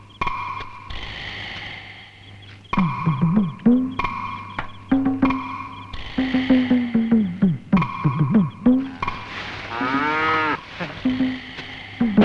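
A cow moos repeatedly inside a cattle shed, several long drawn-out lowing calls close by and loud, with short pauses between them and no talking.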